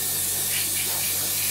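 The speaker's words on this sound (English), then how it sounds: "but we are spraying very loosely" An airbrush or spray gun hisses steadily while loosely spraying paint onto an Academy F-16I Sufa scale model aircraft kit, a close, continuous broadband hiss with no talk.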